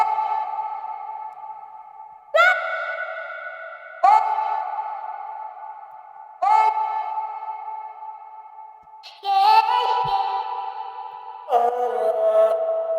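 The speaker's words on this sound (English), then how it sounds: "I started off by adding the reverb" Chopped vocal notes with a washy reverb tail, each phrase ringing on and blending into the next, with a steady, spacious sound.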